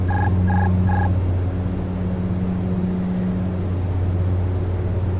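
Airliner landing at LaGuardia in the X-Plane flight simulator: a steady, loud low engine drone fills the cockpit throughout, with three short electronic beeps near the start.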